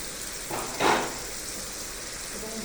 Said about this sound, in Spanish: Y ven que lo estamos revolviendo siempre, porque la idea es que suelte almidón.